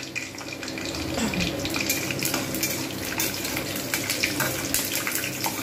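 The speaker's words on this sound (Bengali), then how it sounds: "আমি এখানে প্রথমে বাদামগুলো ভেজে নেব।" Peanuts frying in hot white oil in a wok give a steady, dense crackling sizzle with scattered sharper pops, close and continuous throughout.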